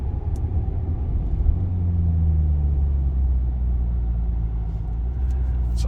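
A Maserati Quattroporte Sport GTS engine while driving, a smooth steady low rumble from inside the car with a rising note as it pulls, heard alone without talk.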